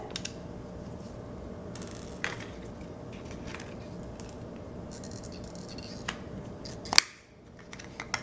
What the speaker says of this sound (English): now with my handy dandy rotary hole punch, I'm going to figure out the size that I need the hole to be